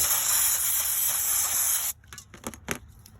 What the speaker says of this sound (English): just hit it with some of this, just any brake cleaner